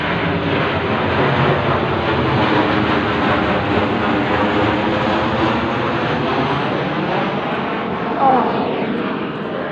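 An airplane passes overhead, its broad engine roar loud and steady throughout with a slight swell late on, no talking over it.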